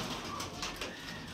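A pigeon offered for sale coos softly, a low, muffled, throaty burble heard close but faint, with no talk over it.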